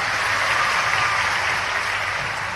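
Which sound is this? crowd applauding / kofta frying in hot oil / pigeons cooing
crowd applauding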